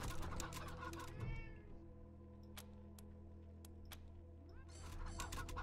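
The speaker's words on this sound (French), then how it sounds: "Maintenant on a un chat." A cat meows in the video game Wasteland 3, a few close, drawn-out calls near the start and end over a steady low game hum.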